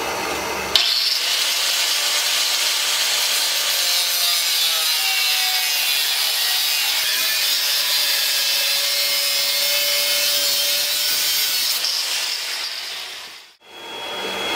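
Metal pieces being cut to length for a homemade three-point drawbar trailer hitch: a steady, loud, continuous cutting hiss runs for about twelve seconds, then stops abruptly near the end.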